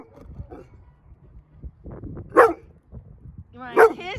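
A small dog gives two sharp barks spaced well apart, close and fairly loud, with quieter rustling and faint movement sounds in between.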